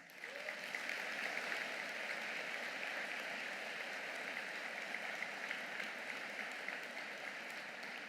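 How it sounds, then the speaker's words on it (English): Faint but steady applause from a spring convocation crowd honouring education graduates, an even, unbroken patter of many hands that holds level for several seconds. "Let's give them a heartfelt applause"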